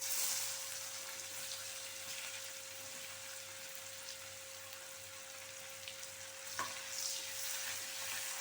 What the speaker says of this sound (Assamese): এতিয়া পিঁয়াজখিনি ঢালি দিম।